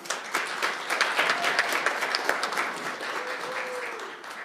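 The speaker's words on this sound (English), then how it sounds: "a round of applause for Julie." Audience applause at an annual general assembly, a short burst of dense clapping from a crowd that holds steady and then begins to thin out.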